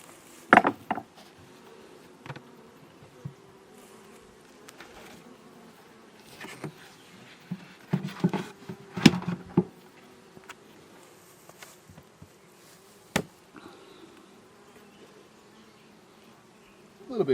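Honeybees buzzing around an open hive during a July inspection, a faint steady drone close by, broken by scattered sharp clicks and knocks of frames and tools being handled.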